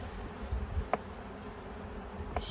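Honeybees hum softly at an opened hive during a subarctic inspection, a faint, steady buzz with a couple of brief clicks from handling the frames.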